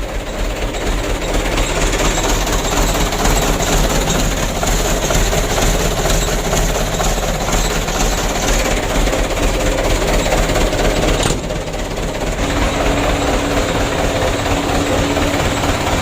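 The diesel engine of a Mitsubishi Canter 125 PS truck, which has been burning oil, runs loudly and steadily with a rough, clattering idle and a brief dip partway through.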